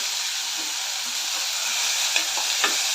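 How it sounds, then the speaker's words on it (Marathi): Peas, garlic, sweetcorn and carrot roast in a hot pan with a loud, continuous close sizzle. A few soft scrapes come through as the vegetables are stirred. "सर्व चांगले सॉफ्ट होईपर्यंत सर्व साहित्य सॉफ्ट होईपर्यंत आपण भाजून घ्यायचं आहे"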